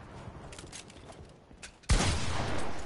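Fortnite sniper rifle fire: a sudden loud crack bursts out after a quiet stretch of faint game ambience, then a rushing tail lingers for about a second.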